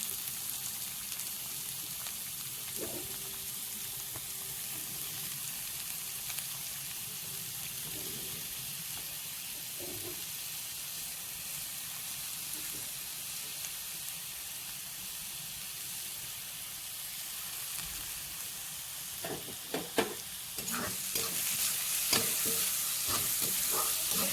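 Onion frying with browned ginger and garlic in a pan, a faint continuous sizzle with occasional soft stirring scrapes, quiet and close, rising a little louder near the end.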